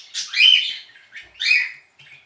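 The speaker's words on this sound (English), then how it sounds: "I hope you can hear over the birds." Birds chirp outdoors, nearby and clear: two bright, scratchy calls in quick succession, then a softer trailing chirp, with no talking.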